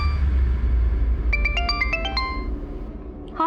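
A mobile phone plays a melodic electronic ringtone, a quick run of bright chiming notes rising over a low room hum, then it stops. No speech is heard.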